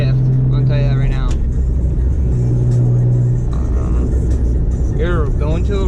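Mitsubishi 3000GT VR4 engine droning steadily from inside the car, with pitch rises and drops as gears are shifted, loud and continuous with someone talking over it.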